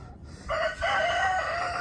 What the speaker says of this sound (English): I gotta let the chickens in.